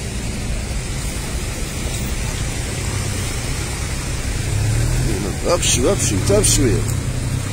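Low engine drone from cars on a badly damaged road as one car pushes another stuck car, steady throughout with men calling out instructions over it.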